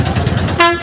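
On a quiet night road, a passing vehicle from Andhra, bound for Kalahasti, gives a short, fairly loud horn toot with a steady pitch over the rumble of traffic.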